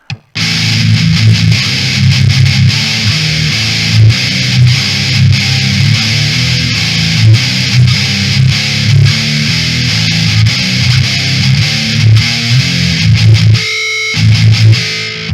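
A loud, heavily distorted electric guitar through a Waves GTR3 metal preset plays a chugging metal riff, dense and continuous, cutting out briefly near the end before resuming.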